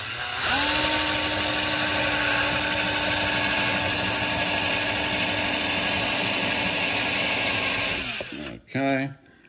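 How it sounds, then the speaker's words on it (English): A cheap handheld power drill with a short bit whines continuously at high speed while boring through two stacked pieces for model wing spars, a loud steady tone that cuts off near the end, followed by a brief rev. "I'll put my short drill bit in my cheapo drill and drill through both pieces"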